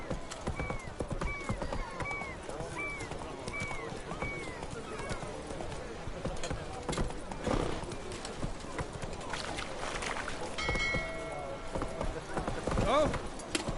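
Hooves of the horse Roach in The Witcher 3, a steady clip-clop gait running throughout with a whinny and clattering effects late on, while someone speaks over it.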